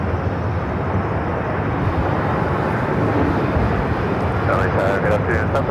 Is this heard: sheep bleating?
no